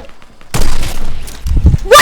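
Gunfire in the Fortnite video game, a sudden loud burst of shots after a quiet opening, followed by rapid crackling impacts and a second flurry near the end.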